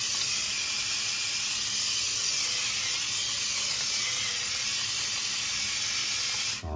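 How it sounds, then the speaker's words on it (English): Green bean and tomato sauce for spaghetti simmering in a pot, a steady, even hiss of steam and bubbling that holds unchanged throughout, with no voices. "let it slowly simmer here and get all the flavors incorporated"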